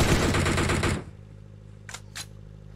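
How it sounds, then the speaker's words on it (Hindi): Rapid automatic gunfire from a battle royale esports match, a loud dense burst of shots for about a second, then quiet with two short sharp cracks afterward. "वैनम ने एंटिटी घातक को दिए हेडशॉट, और यहाँ पे स्काउट के ऊपर गोलियां बरसाते हुए"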